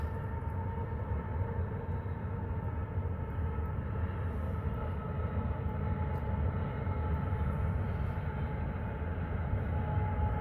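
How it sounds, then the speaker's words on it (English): A steady low rumble of a distant eastbound train rolling past near Flagstaff, Arizona, constant and unbroken throughout, with no voices. "You can hear a train."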